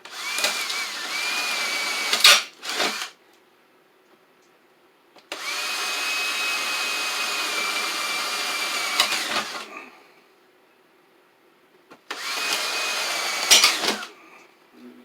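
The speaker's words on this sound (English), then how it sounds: "next we'll take our drill and we'll go into the corners here" A power drill runs in three separate bursts with quiet gaps between, drilling into the corners of an electrical junction box, its whirring motor loud and close, ending each run abruptly.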